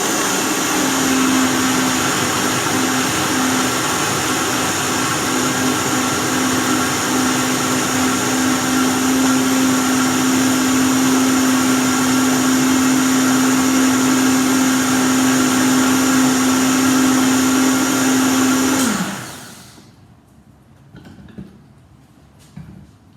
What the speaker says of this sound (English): We'll blend this now.